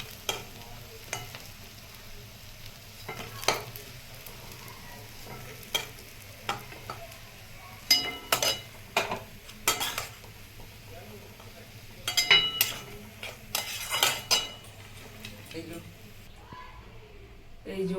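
Egg-battered chicken neck pakoras fry in hot oil with a soft, constant sizzle, broken by clusters of sharp clinks and scrapes from a utensil against the pan, while someone talks over it.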